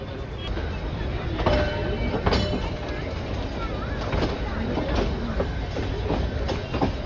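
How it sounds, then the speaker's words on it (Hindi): Ooty toy train on the Nilgiri line shunting backward along the platform at Coonoor station, a steady rumble and clatter of rail cars with faint squeals and background voices on the platform. "अभी बैकवर्ड शंटिंग हो रही है इसकी प्लेटफॉर्म पे।"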